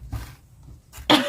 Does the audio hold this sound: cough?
yes